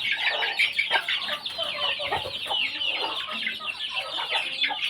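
Hens cluck and chatter continuously, several birds close by, with busy overlapping calls and no talking.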